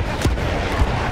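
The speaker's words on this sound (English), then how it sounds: "Enemy coordinates have been sent to our artillery." Artillery fire in a World War shooter video game rumbles as a dense, loud low boom with a couple of deep thuds inside a continuous wash of battle noise.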